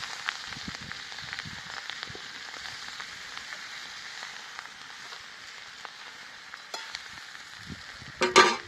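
Amaranth greens with garlic and chili frying in a hot pan over a wood fire, a steady close sizzle with soft crackles and a louder burst of spatter near the end.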